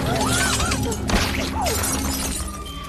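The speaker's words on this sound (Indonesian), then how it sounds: "ketika sebuah peluru menembus kaca mobilnya" A bullet smashing through a car window in a film, a sudden loud glass shatter followed by tinkling debris over a tense musical score, with no talk.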